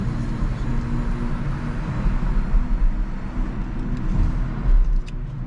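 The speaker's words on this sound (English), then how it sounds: "You can hear now the electric sound." A 2022 Renault Arkana E-Tech 143 HP hybrid rolls along at night in electric mode, giving a quiet, steady hum and road noise with no engine revving.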